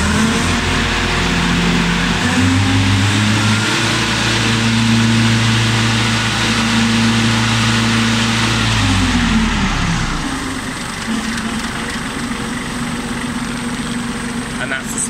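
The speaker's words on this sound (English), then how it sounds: "So you wind your rev lever up to 540" A Kubota tractor engine with a finishing mower, its pitch climbing as the rev lever is wound up to PTO speed, then settling into a loud steady drone, close by.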